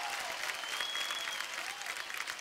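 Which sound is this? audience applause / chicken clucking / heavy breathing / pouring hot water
audience applause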